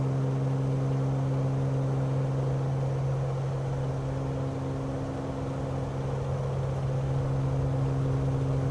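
A steady, loud aircraft engine drone throttling up in Flight Simulator 2020, a constant low hum with strong tonal bands holding evenly across the whole stretch, near and continuous with no voices.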